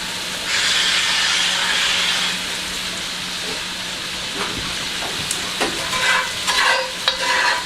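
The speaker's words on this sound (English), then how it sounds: "So we'll throw the meat in." Thin-sliced meat for Philly cheesesteak sliders hitting a hot pan, a loud hiss that swells up and holds steady, then softer sizzling with scattered clinks and scrapes of a utensil.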